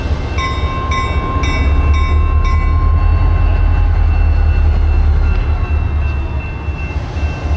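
A locomotive pulls a railroad car forward, a loud continuous low rumble with a few sharp metallic clanks and faint squeals early on, close by, no talk.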